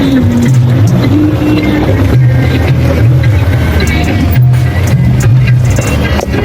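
A vehicle engine revs hard and steadily while stuck in snow on a difficult mountain track in Pakistan, a loud continuous drone with rising and falling pitch throughout.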